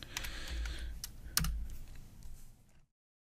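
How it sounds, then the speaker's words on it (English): Computer keyboard typed on at a desk, a quick uneven burst of close key clicks with one sharper tap, fading out before the end, no voices. "Doggone it, I can't type this morning."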